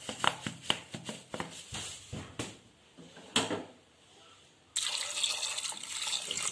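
Water poured into a cooking pot of papaya pieces seasoned with turmeric and salt, with a string of close clinks and splashes followed by a steady, moderately loud gush of pouring water.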